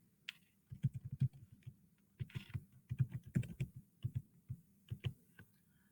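Login details are typed on a computer keyboard in quiet, close bursts of key clicks with short pauses between them, and no one speaks.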